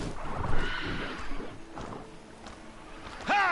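Machine creatures called Striders run in the video game Horizon Zero Dawn, giving horse-like whinnies and hoof clatter, moderately loud with a sharper neigh near the end.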